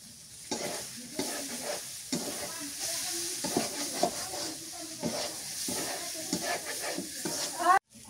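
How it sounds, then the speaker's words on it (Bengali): Beef brain fries in a pan with ground cumin, giving a steady sizzle. Repeated scraping strokes of stirring rise over the sizzle, and a sharp clatter comes near the end. "শুকনা শুকনা করে ভাজি করছি একদম"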